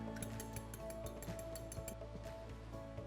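Kenwood stand mixer beating walnut cake batter, a faint, steady mechanical whir with rhythmic ticking and clicking of the gears, no talking.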